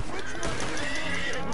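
A horse in Red Dead Redemption 2 whinnies loudly over galloping hoofbeats, with a voice talking in the background.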